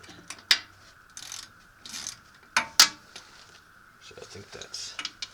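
A socket ratchet loosens a bolt on the CV axle of a 1989 Nissan D21 Hardbody, with scattered ratcheting clicks, a few sharp metallic knocks and handling noises close by, a voice speaking briefly between them.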